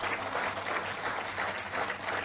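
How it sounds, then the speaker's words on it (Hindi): An audience claps at a political rally, dense continuous applause with gently rolling loudness throughout, no voices over it. "जोर से एक बार इनके लिए भी ताली बजाएं।"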